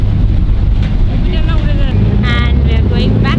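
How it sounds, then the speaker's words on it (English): A ferry crosses to a cruise ship off George Town in the Cayman Islands on a windy day; loud wind buffeting roars over a low engine rumble, with faint voices in the background. "So we boarded the ferry from here to the cruise."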